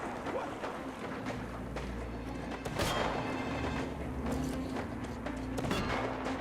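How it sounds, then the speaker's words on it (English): Rapid bursts of video game gunfire in Metro Exodus crackle and boom over a constant low engine-like rumble, with heavier blasts recurring every second or so. "It's just the constant gunshots."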